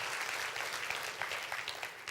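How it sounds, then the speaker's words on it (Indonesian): A church congregation applauds during a sermon, a steady wash of many hands clapping that is moderately quiet and continuous for the whole moment, with no talking. "Berikan tepuk tangan yuk buat Tuhan Yesus."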